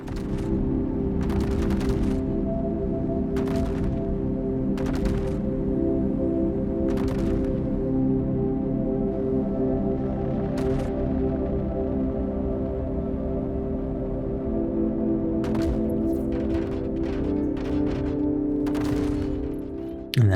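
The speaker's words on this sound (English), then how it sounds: "just to see those cannons firing, those shells going in" Ship turret cannons in the Star Citizen game fire in a fleet battle, a series of sharp booming shots spaced a second or two apart over a constant low engine hum, then a quicker cluster of blasts near the end.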